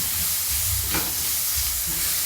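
Grated carrots frying in an egg curry mixture in a pan, a loud, continuous close sizzle with a brief clatter of stirring about midway; no voices.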